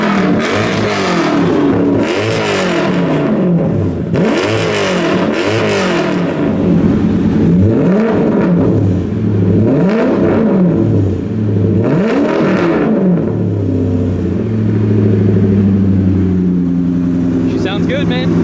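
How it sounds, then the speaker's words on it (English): A turbocharged Lexus V8 in an 800 hp SC400 revs repeatedly, rising and falling in long sweeping pulls, loud and close, then settles to a rumbling idle with voices over it. "Mind revving her up for us?"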